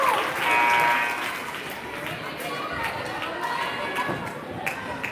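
Crowd at a women's league final basketball game livens up with broad cheering and applause, a loud swell early that settles into steady crowd noise under commentary.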